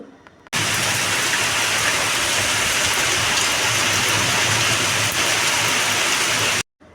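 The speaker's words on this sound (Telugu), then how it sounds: "చూసారు కదా వర్షం ఎలా పడుతుందో" Heavy rain pours down in a steady, loud, dense roar that holds without a break and stops abruptly at the end.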